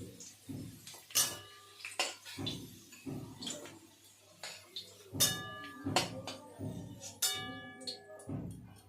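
Utensils scrape and clink against a pan as fried potatoes are lifted out, a series of sharp metallic knocks and rings at an irregular rhythm, close and distinct with a low hum behind.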